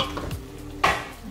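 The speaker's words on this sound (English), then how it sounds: "while the veggies is frying, please be stirring it so it doesn't get burnt" Vegetables frying in a pan while being stirred, a soft scraping sizzle with a louder stir scrape near the end of a brief, close cooking moment.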